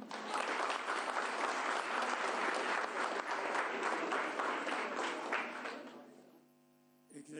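A room full of people at a national Afro-Bolivian gathering in Bolivia applauds steadily for about six seconds, then the clapping fades out, leaving a faint electrical hum.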